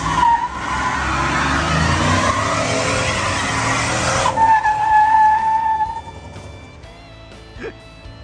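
Ford Dentside pickup truck doing a burnout with the positraction locking in, loud roaring engine and squealing, skidding tires for several seconds, then fading to a lower screech and idle.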